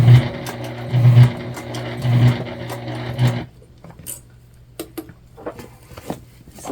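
A sewing machine stitches around the Olivia Bag in rapid mechanical bursts with a steady whirring hum, then stops, leaving scattered clicks and light handling taps.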